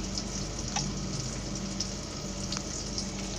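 Chicken adobo being stirred in a hot pan, with steady close sizzling and frying and occasional soft scrapes of the spoon, heard alone without talk.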